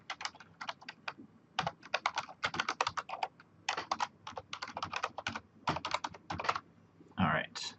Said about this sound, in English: it helps to type the correct password in